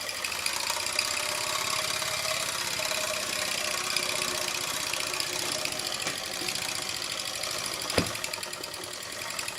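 A Mamod TE1A model steam tractor engine running in reverse, giving a steady faint rapid chuffing and mechanical clatter throughout, with one sharper knock near the end.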